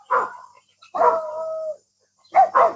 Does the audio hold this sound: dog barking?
yes